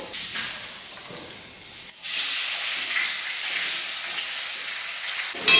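Onions dropped into hot oil in a pan already holding dried red chillies, in a home kitchen, give a loud, steady hissing sizzle that briefly dips, then surges and holds.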